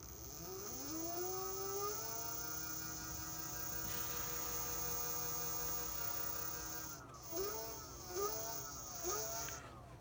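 The hub motor of a converted Bird Zero electric scooter whines steadily, rising and falling in pitch as it spins up, then gives three short revving pulses at the end, alone and fairly quiet.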